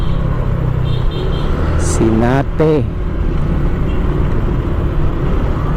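Steady road traffic rumbles near a roadside market area in western Pangasinan, with vehicle engines droning continuously and a brief horn-like tone in the middle, while people talk over it.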